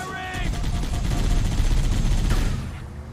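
Rapid automatic gunfire from the Halo video game, loud and close, a dense rattling burst of shots running for about three seconds with game voices mixed in.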